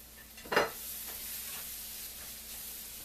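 Tofu is tossed into stir-fried ramen in a hot pan, giving one sharp scraping stir followed by a steady, quiet sizzle that carries on to the end.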